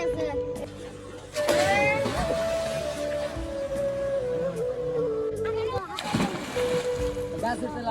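People bathe and splash in water on a hot summer day, with irregular sloshing and splatters close by, under children's and adults' voices and a sustained tonal whine.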